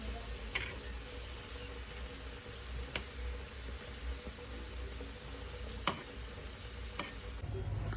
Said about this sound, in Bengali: আর একটু ফ্রাই করে এই সাইডটা একটু ফ্রাই করে